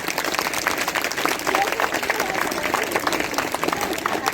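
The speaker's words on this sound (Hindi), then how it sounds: "तालियां तो इतनी जोर से बजनी चाहिए कि पूरे छाता में आवाज जाए" Audience applause at a village youth club's general knowledge quiz prize ceremony in Mathura, a dense steady patter of many hands clapping at close range for the whole stretch.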